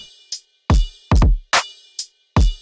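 Electronic hi-hats and ride cymbal in a dry, straight pattern without delay, from a breakdown section: sparse, sharp hits with low thumps under some, loud and alone with silence between.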